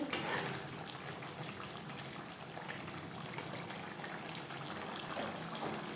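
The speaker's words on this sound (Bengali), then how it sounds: "চিকেন প্রায় সেভেন্টি পারসেন্ট সেদ্ধ হয়ে গেছে" Chicken pieces boiling in a pot for an aloo chicken curry, a soft, steady bubbling and watery churn at low level, with faint clinks and a few brief voice sounds.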